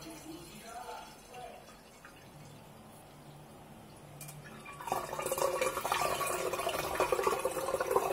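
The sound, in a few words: pouring cooled tea through a strainer for kombucha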